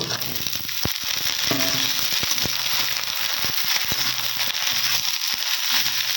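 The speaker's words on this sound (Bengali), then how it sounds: "এবারে আমি পটলগুলো কেটে ধুয়ে রেখেছিলাম, এবারে দিয়ে দিব।" Sliced pointed gourd goes into a pan of browned chopped onions, setting off a loud, steady hiss of frying oil dotted with sharp crackles and pops, close up with no talk.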